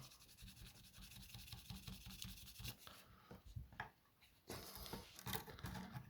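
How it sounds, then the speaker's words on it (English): Guitar frets being polished by hand, a continuous quiet rhythmic rubbing and scrubbing with a short lull midway before the strokes resume. "it's hard work, this fret polishing malarkey"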